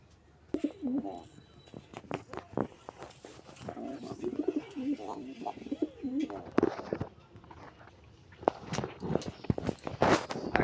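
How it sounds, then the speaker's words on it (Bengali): A pair of pigeons coo in low rolling bursts nearby, mixed with scattered clicks, scuffs and wing flutters, getting busier toward the end. "দেখতে পাচ্ছেন সবাই খুব ভালো এক জোড়া কবুতর"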